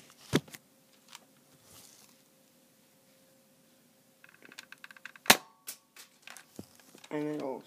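A homemade airsoft gun converted from a Nerf gun fires in sharp, isolated snaps: one loud crack near the start, then a cluster of clicks and a strong shot around the middle, with handling noises in between and no talk.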